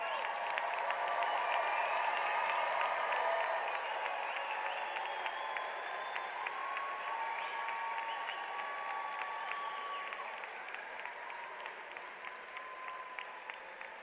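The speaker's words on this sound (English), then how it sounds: "I guess I don't have to ask you to give another round of applause." Audience applauding at a university spring graduation ceremony, a dense, sustained wash of clapping from a large crowd that continues steadily throughout and fades only slightly toward the end.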